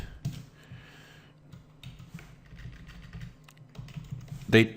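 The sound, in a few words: typing on a computer keyboard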